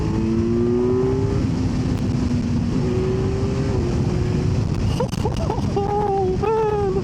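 A 2025 Kawasaki Z900 motorcycle engine revs under throttle, a loud continuous buzzing drone that climbs in pitch through steady pulls, with wind rush and brief changes near the end as it shifts and rises again.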